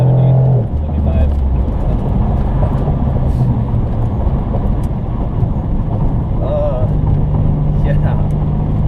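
A Pontiac Grand Prix accelerates at full throttle up a highway on-ramp, its engine droning in a loud, steady roar from inside the cabin, with a voice speaking over it.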